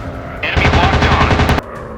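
A rapid burst of machine-gun fire in a WW2 dogfight video game with an F4F Wildcat and SBD Dauntless, loud and close, running about a second over an engine drone and ending abruptly.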